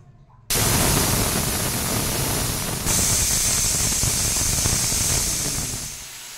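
A pressure cooker of mutton with green chilies and fried potatoes bursts into loud, sustained steam hiss after a quiet start, surging once more midway and then tapering off.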